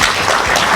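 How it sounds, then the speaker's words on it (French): An audience at the closing of an art exhibition applauds, a dense burst of loud, close clapping that fills the whole short moment. "je pense qu'on peut vraiment l'applaudir"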